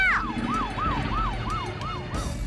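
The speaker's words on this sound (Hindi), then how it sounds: "मैंने अपने मोबाइल से पुलिस की सायरन बजाई थी।" A police siren played from a mobile phone wails in rapid repeated rises and falls, thin and close through the small speaker.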